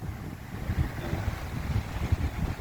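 Steady wind blowing and buffeting an outdoor microphone during a trip home, a continuous low rumbling gust noise with no speech.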